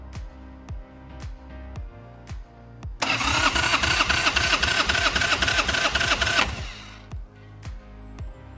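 A 1989 Harley-Davidson Sportster engine, dead for years, cranks over on the starter in rhythmic bursts: short pulses, then a loud sustained three-second crank, then slower turning, close with no voices.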